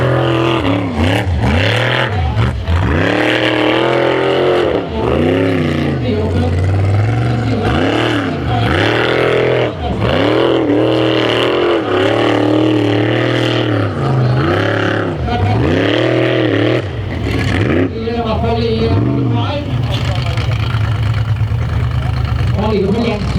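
Formula Offroad buggies racing on a dirt track at Matrand, engines loud and close, revving and dropping repeatedly in a rhythmic wail throughout, with an announcer talking over the noise.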